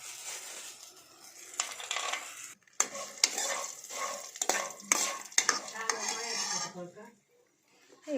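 Peanuts and red chillies fry in a pan, stirred with a metal spoon, giving a busy sizzle broken by sharp scraping clicks and knocks against the pan that fade toward the end.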